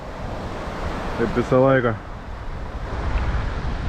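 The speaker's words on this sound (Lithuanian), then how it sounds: "Blemba vėjas, čia nepatogu." Wind gusts and sea waves roar steadily on the shore during sea fishing from the beach, a broad, constant wash of noise with someone briefly speaking over it.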